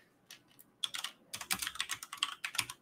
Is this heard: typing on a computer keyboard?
yes